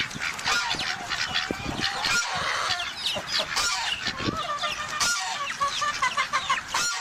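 Farmyard chickens clucking among goats, turkeys and ducks, with loud overlapping clucks, squawks and honking calls close by, continuous and busy throughout.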